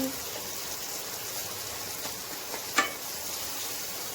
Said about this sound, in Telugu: టమాటా తీసుకున్నాక హై ఫ్లేమ్లో పెట్టి టూ మినిట్స్ ఫ్రై చేయండి